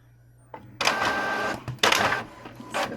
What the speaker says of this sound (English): Just turning my printer on.